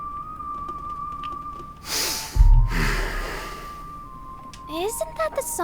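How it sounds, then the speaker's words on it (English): A game character whistles a wistful tune in Trails through Daybreak, a thin sustained whistled melody line running steadily beneath background music, with brief breathy bursts and a few short notes near the end. "Is he whistling?"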